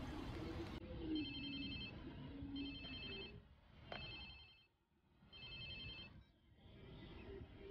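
A phone rings in the Watch Dogs 2 video game, repeated electronic ring bursts in a regular pattern, faint under low background rumble and game ambience.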